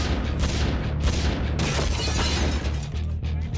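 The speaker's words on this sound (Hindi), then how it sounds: "और हो गया विस्फोट" An explosion at the Punjab police intelligence headquarters in Sector 77, Mohali, heard as a dense, roaring burst of broadband noise with crackling debris and a heavy low rumble that runs throughout, with no voices.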